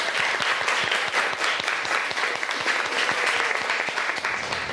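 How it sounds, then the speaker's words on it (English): A round of applause for cooks, many hands clapping together in a dense, steady patter that holds at an even level for the whole stretch. "we should all give the cooks a big round of applause"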